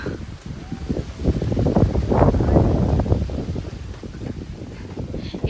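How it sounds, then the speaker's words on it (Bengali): Wind blows steadily outdoors beside a house, a loud, continuous rushing gust noise that swells in the middle and stays broad throughout, with no talk. "এই যে কত সুন্দর হাওয়া চলছে বন্ধুরা"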